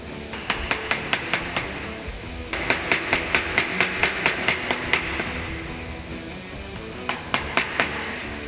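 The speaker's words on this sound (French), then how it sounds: "Vous pouvez utiliser votre maillet à frettes pour taper, pas de souci." A fret mallet taps a wooden electric guitar neck in a series of sharp, evenly spaced strikes, close and loud, pausing briefly between bursts with no talking.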